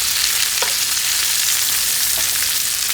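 Walleye fillets pan frying in butter, oil and garlic give off a loud, steady sizzle that fills the whole stretch, with faint clicks of a utensil and no voices.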